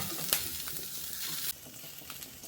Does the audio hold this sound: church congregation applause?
no